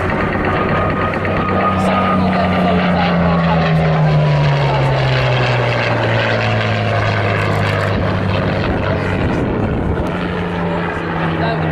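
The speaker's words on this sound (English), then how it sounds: "It's now owned by Historic Flying Limited, and this aircraft now in the capable hands of John Romero." Vintage propeller aircraft flying past at an air show in Southport, its engine drone loud and steady with a sweeping pitch shift as it passes, while a voice talks over it.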